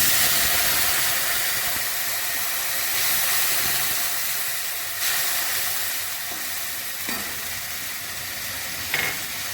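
Water added to a pan of fried spices for a fish curry bubbles and sizzles in a continuous hiss, with a few sharp clinks and knocks of utensils near the end.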